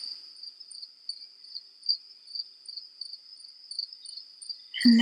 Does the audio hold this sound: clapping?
no